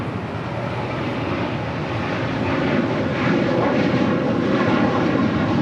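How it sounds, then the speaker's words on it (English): A Philippine Airlines jet bound for Manila takes off from runway 24 left at LAX, its engines producing a steady, broad roar that swells slightly as it heads down the runway, heard from a distance with no talk. "Philippine Airlines heading back to Manila, flight 113, taking off there on the north side at 24 left."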